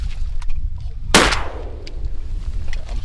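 A single loud, sharp gunshot cracks out while waterfowl hunting on North Dakota public land. Its echo tails off over a steady low outdoor rumble, with no talking.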